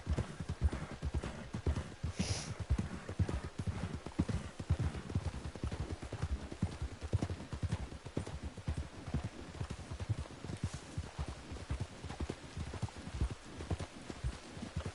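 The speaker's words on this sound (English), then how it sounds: "Oh, my horse is about to run out of stamina." Rapid, rhythmic hoofbeats of a galloping horse in a video game run steadily throughout, with a brief whinny near the start; fairly quiet and continuous.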